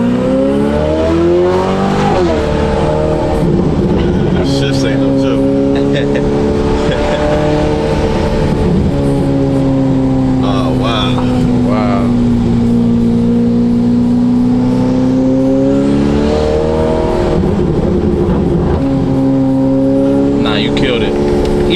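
A modified Ferrari F8 Tributo with an aftermarket exhaust revs loudly and up close, its engine note rising and falling in long sustained pulls, while people talk beneath it.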